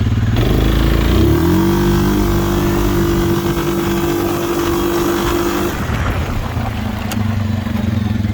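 A 2022 Suzuki King Quad 750 ATV engine idles, then revs sharply on a launch and holds a high, steady drone before easing off and settling lower.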